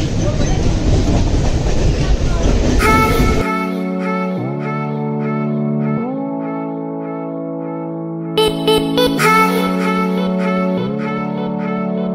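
A Kolkata Metro train on the rails: a few seconds of loud broadband rumble give way to a steady electric motor whine that steps up in pitch several times as the train picks up speed.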